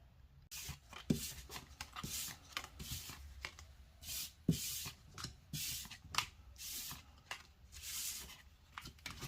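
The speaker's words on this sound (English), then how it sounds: "let's now shuffle the cards again" Playing cards shuffled during a tarot-style reading, giving a run of soft, quick riffling bursts and rustles that repeat at an even pace, close and quiet, with no talking.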